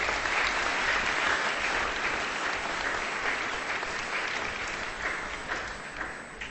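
Warm, sustained applause for the UC Peter choir inside a church at a Christmas service, a dense crowd clapping steadily and loudly before tapering slightly toward the end, with no talk over it.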